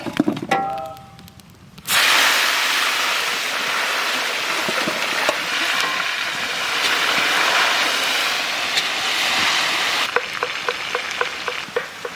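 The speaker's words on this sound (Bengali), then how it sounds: "ডিম ভেজে নিছি, ওই তেলে এখন ফুলকপি ভেজে নেবো।" Cauliflower fries in oil left over from frying eggs, giving a loud, dense, continuous hissing sizzle that starts abruptly after a brief quieter opening and carries a few sharp pops near the end, with no talking.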